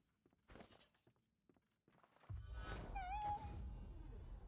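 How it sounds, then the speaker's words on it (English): A single drawn-out cat meow from the video game Divinity: Original Sin 2 rises over low rumbling and scattered clicks and footsteps, fairly close and clear. "Keep hearing cat meow."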